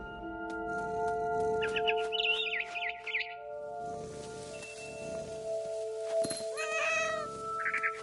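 A cat meows in several drawn-out calls, with faint bird chirps and a steady tonal hum in the background.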